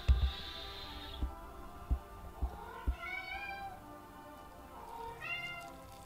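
A cat meows repeatedly, a few drawn-out, rising and falling calls close to the microphone, with several soft low thumps early on and no talking.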